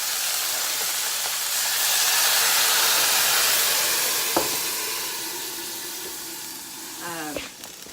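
Brandy hitting a hot pan while cooking chicken liver mousse gives a loud, steady sizzling hiss that swells as it flares, with a voice speaking briefly near the end.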